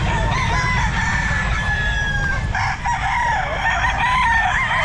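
A sweater gold gamefowl rooster crows loudly and close at an outdoor pet market, its drawn-out call riding over constant crowd and market noise.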